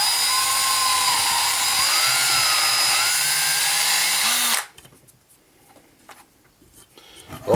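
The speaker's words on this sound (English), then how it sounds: "All we're doing is drilling the center out, thinning the walls so we can fit the light in here." A small power drill bores out the center of a plastic Easton Axis arrow nock, a loud steady whine close up for several seconds before cutting off to near silence.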